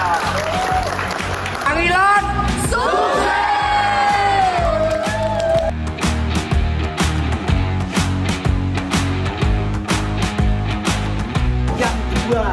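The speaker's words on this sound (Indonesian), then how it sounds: "Tepuk tangan semuanya." A film crew applauds and cheers on location at SMA Negeri 1 Ngunut Tulungagung during the second day of production on a short film: loud clapping with whoops and shouted voices, tones rising over the crowd.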